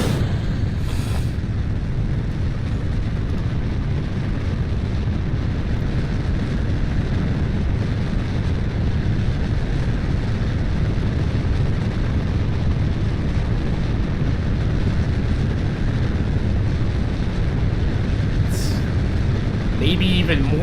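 A rocket engine in Kerbal Space Program roars in a steady, dense rumble as it is throttled up, holding constant and loud for the whole stretch with a voice talking over it.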